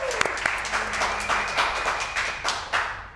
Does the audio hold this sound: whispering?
no